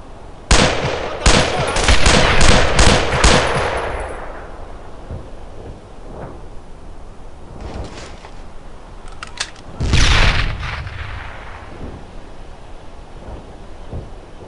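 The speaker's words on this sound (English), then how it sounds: "Watch out! I'm throwing a grenade!" A grenade explodes in the WWII shooter Brothers in Arms: Earned in Blood, with a sharp blast amid rattling gunfire, then a second heavy boom rolling out after a quieter stretch of scattered shots.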